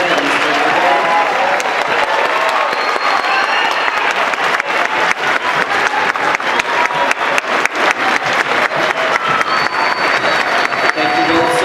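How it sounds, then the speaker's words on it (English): Sustained, loud audience applause after a massed choir and band concert, a dense wash of clapping with some cheering, holding steady for over ten seconds in a large hall. "we actually get just one more round of applause for our conductors this evening, Dr. Reinhardt and Mr. Reinhardt."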